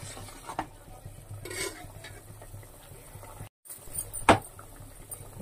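Rice being stirred into mushroom biryani in a pot, a soft scraping and mixing texture with a couple of brief spoon knocks, one sharper clink near the end.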